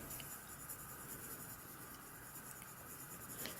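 Colored pencils, a green shade among them, rubbing and blending steadily across paper in a soft, continuous close scratching that holds an even level throughout, with no talk.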